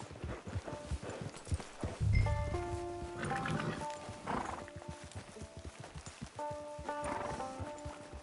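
A horse whinnies and hooves clip-clop, mixed with tonal game-style music cues and other layered effects, no talking.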